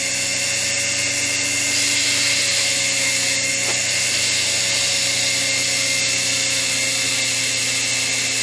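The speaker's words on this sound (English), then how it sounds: "Finish this with a little bit of sandpaper and get ready to put a radius on the end of it." A cue tip is sanded with sandpaper while a high, steady whine of a spinning lathe-like motor runs continuously and loud, with faint rubbing beneath it.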